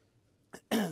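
A man coughs twice close by, a short dry hack followed by a louder, longer rasping cough after a brief pause.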